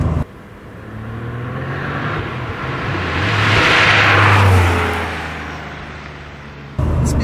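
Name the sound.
Porsche 993 Turbo 1996 accelerating hard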